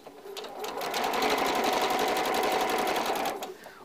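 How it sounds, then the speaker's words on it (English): A sewing machine runs a normal 2.2 stitch through fabric toward a Y seam intersection. The needle hums in a fast, steady, close-up rhythm that ramps up, holds for about three seconds and then stops. "And I'm sewing towards the Y intersection."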